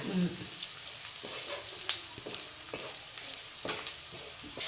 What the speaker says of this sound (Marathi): काळा मसाला हळद थोडीशी कोथिंबीर टाकून परतून घ्यायचं आहे ना